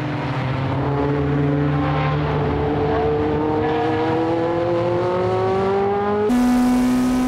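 Tsuchiya's TRD Toyota AE86 race car accelerating hard on track, its engine note climbing steadily through a long loud rev before a sudden shift to a steady high drone, with no voices.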